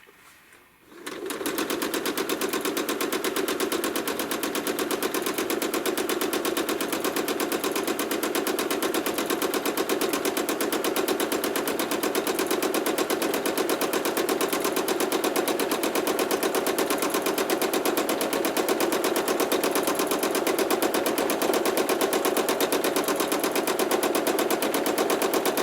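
A sewing machine doing free-motion quilting on a quilt starts up and then runs in one long, fast, even whir of stitching that stays steady and unbroken throughout.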